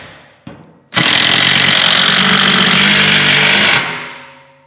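A power tool drives a lag screw with a washer through a 2x4 into a wall stud, a sustained loud, near whirring grind of about three seconds that ends abruptly after a brief click beforehand.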